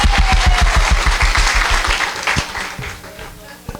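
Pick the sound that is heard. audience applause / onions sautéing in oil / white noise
audience applause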